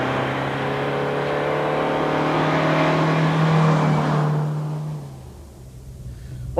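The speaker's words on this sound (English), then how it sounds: "let's kick off with a run on the hill climb to warm this engine up a bit" A Vauxhall Cavalier MK3 engine drones steadily and loud with a low hum on a hill climb, then fades off toward the end as it pulls away.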